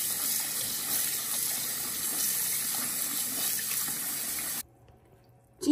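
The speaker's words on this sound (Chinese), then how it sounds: "快速的漂洗一下" Water from a tap runs steadily over about 15 grams of fluffy dried seaweed (laver) being quickly rinsed as a whole clump, a continuous splashing hiss that cuts off abruptly near the end, leaving quiet.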